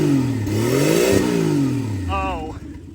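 The boosted slant six engine of a 1963 Plymouth Valiant, fed through a Carter BBD carburetor, revs loud and close, pitch rising and falling in sweeping throttle blips, with a brief high whistle near the end.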